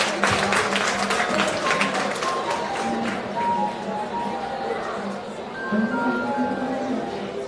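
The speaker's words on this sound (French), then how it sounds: "Vos acclamations." Applause from an audience at a school award ceremony, crisp scattered clapping that thins out over time under murmured crowd chatter and a few tonal background sounds.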